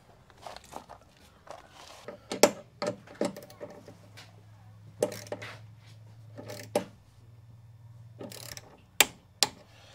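Bolts being tightened on an electrical earth bar during a stadium supply upgrade: quiet, irregular clicks and ratcheting metal taps in short bursts, with a low hum beneath and faint movement around them.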